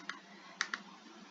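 Computer mouse clicks sound in a short sequence, one click followed by a quick double click, crisp and close against quiet room tone.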